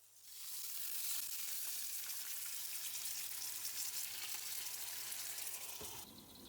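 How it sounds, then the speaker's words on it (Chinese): Beef and leek dumplings pan-fry over medium heat with a lid on after cold water is added, giving a loud, steady sizzle and hiss that runs nearly unbroken, with no voices. "继续中火煎饺"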